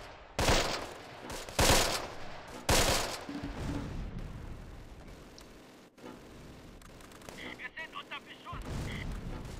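Gunfire and explosions in the World War II strategy game Close Combat: The Longest Day: three heavy booming blasts at the start, then sustained rattling fire and distant shots, loud and dense, with a player's voice nearby.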